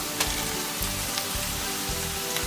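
Onion and carrot sizzle steadily in a hot pan for a veg street-style hot dog filling, a close, even frying hiss with no talking.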